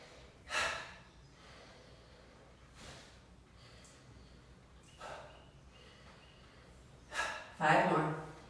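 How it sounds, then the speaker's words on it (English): Loud, echoey exhales during a guided breathing practice in a room, several separate breaths spaced a few seconds apart, the last two strongest and closest together. "I'm now imagining that my exhale is quite loud and echoey here"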